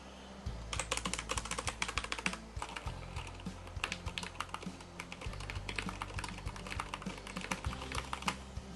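Steady typing on a SteelSeries Apex Pro RGB gaming keyboard, close and crisp, with rapid irregular key clicks and thocks running continuously and no talking.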